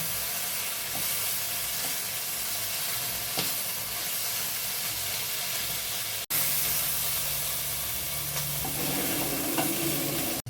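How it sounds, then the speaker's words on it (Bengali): Steady loud sizzling of chicken tikka frying in hot oil in a pan, a continuous hiss with a brief break partway through and occasional stirring. "চিকেনগুলোকে একটু ভালোভাবে ভেজে নিতে হবে"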